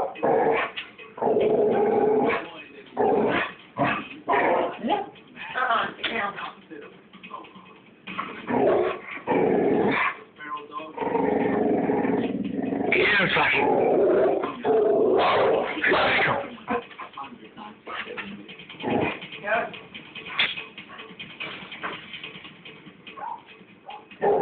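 A female pit bull growls and snarls in repeated bursts, with occasional yips and barks, close to the microphone for a long stretch.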